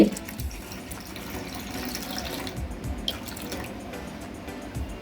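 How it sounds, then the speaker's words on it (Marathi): Milk being poured into a pot of water for modak dough, a steady close pouring and running-liquid sound with light splashes and drips, with no one speaking. "थोडस दूध ॲड करते"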